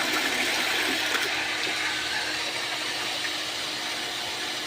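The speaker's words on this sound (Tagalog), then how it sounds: "Ang setup natin yung booster water pump" A booster water pump runs steadily with a constant rushing, whooshing noise and a low motor hum, continuous and fairly close.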